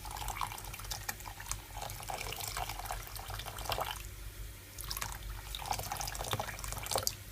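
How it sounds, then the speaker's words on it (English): Hot water pours from a kitchen tap into a pot of dried peas for Jamaican stew peas, a steady, close splashing stream with brief pauses, alone with no talk. "This is hot water, guys. You can always use cold water, but I prefer to use hot water."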